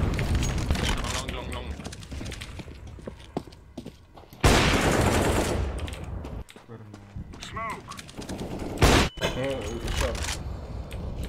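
Shooter-match gunfire comes in scattered bursts and sharp booms amid crowded game effects, with players talking over much of the action.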